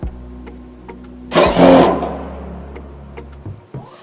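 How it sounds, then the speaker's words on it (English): An impact driver fitted with a 5/16 bolt biter bit is used on a worn fastener. A low motor hum comes first, then a loud, half-second burst of rattling hammering, and the tool winds down to a quieter whir. "grab our 5/16 bolt biter product, put it in my impact driver, line it up to the worn fastener"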